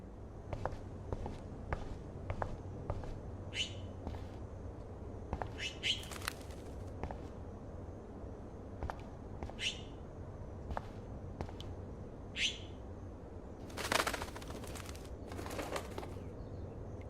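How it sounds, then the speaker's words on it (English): A bird trapped indoors in the Life is Strange video game, chirping in short scattered calls amid soft footsteps and faint ambient hum, with a louder fluttering burst of wings toward the end. "that poor little bird has been trapped in here"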